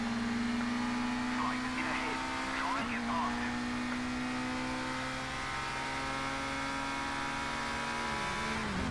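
Touring car engines in the ToCA Race Driver video game drone with a raspy, steady tone whose pitch shifts slightly as the cars rev, heard under someone talking throughout.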